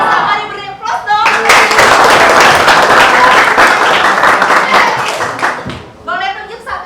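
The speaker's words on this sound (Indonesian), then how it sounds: "mari beri aplaus dong" A room full of people bursts into dense hand clapping that holds steady for several seconds before fading, with a voice speaking briefly before and after the applause.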